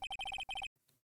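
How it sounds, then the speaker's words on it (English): A phone ringtone in the Phoenix Wright: Ace Attorney video game, a quick electronic warble of repeated bright beeps in two bursts, then a faint tail, with no talking. "I heard a phone ring just now."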